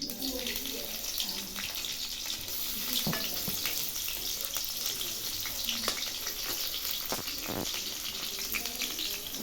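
Onion and green chili sizzle in a pan, a steady hiss with watery splashing and occasional stirring clinks throughout, fairly faint and continuous.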